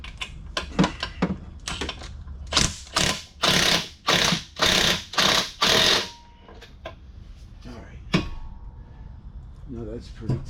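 Ratchet wrench tightening driveshaft bolts on a Dodge Challenger, heard as several rapid bursts of clicking in a row, fairly loud and close, with sparse handling knocks and brief talk around them.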